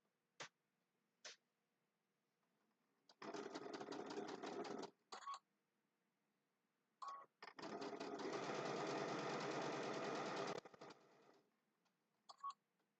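A sewing machine stitches the sashing onto a Christmas table runner in two steady bursts, a shorter run and then a longer continuous whir, separated by brief clicks and pauses, close and with no talk.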